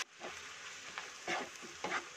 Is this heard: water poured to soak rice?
no